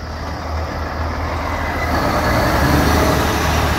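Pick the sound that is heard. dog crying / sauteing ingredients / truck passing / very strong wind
truck passing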